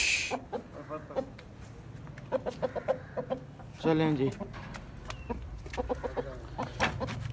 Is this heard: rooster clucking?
yes